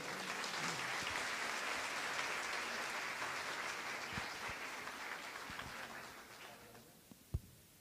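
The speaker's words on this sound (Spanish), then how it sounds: "Un fuerte aplauso." Audience applause following a conference talk, steady and full for several seconds, then thinning out and fading near the end with a few last scattered claps.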